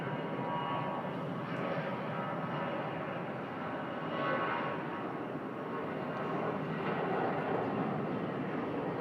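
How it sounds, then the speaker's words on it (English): An ATR turboprop airliner arrives at a Bangkok airport with a steady, broad engine roar that holds at moderate distance and swells slightly midway. "Oh, there's Lau ATR just popping in"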